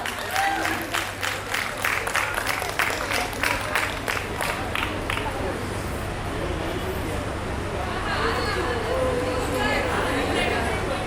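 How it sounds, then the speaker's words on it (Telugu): Audience applause after a performance at a sangeeth celebration, dense steady clapping for several seconds that thins into crowd chatter and murmur. "please clap for the amazing performance"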